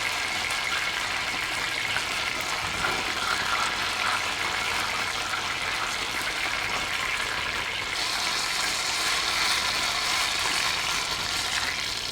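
Scallions frying slowly in oil in a pan, a steady, loud hiss of sizzling that continues without a break and brightens partway through.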